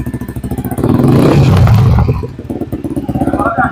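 Yamaha Vixion motorcycle fitted with a DSC aftermarket exhaust revs loud and close, its throttle blipped hard with a rapid pulsing idle before and after a sustained rev.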